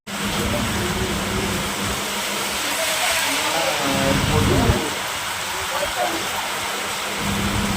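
Heavy rain falls outside a bakery, a dense, steady hiss that continues throughout, with brief murmurs of voices partly buried beneath the downpour.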